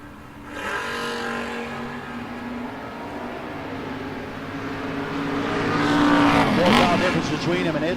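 Drag race launch between an El Camino and a 1967 Camaro at a no-box 660 shootout, engines droning steadily then swelling into a loud rising roar near the end, with an announcer talking over it.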